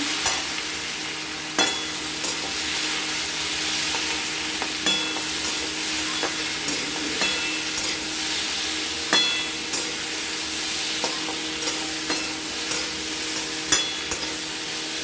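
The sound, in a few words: food frying and being stirred in a pan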